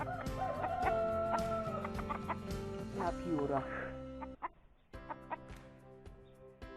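Sebright hens cluck and a Sebright rooster calls close by, busy and overlapping, with a person speaking briefly near the end.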